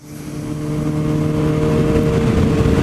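Suzuki GSXR 750 motorcycle engine revving up from idle, rising into a loud, steady drone with strong harmonic whine, close to the listener and without talk.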